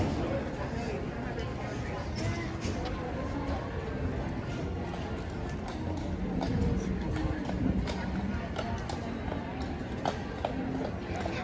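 Horse hooves clip-clop steadily as a horse-drawn trolley moves through Magic Kingdom, mixed with crowd chatter and a person talking nearby.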